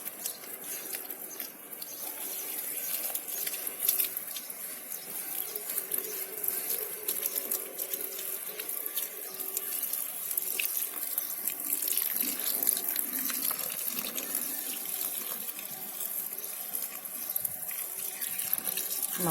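A hose pipe runs a light, steady stream of water onto plants, a continuous close splashing and trickling that holds evenly for the full stretch with no voices.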